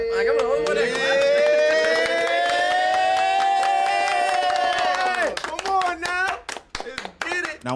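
Crowd clapping and cheering loudly under a held sung or shouted note, then sharper individual claps breaking through as the noise thins out near the close.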